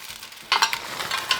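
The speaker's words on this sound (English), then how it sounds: "First, we'll add in the chicken." Raw chicken dropped into a pan and stirred alongside rice and green beans, giving a soft start followed by a steady scraping, sizzling bustle up close, with no talking.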